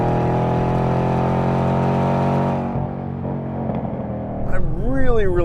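Chevrolet Camaro Z28 with a naturally aspirated V8 running on a track, a loud steady engine drone that drops off partway through as a voice starts talking over it.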